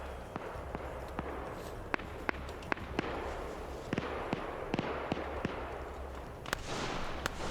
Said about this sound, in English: We hear those gunshots now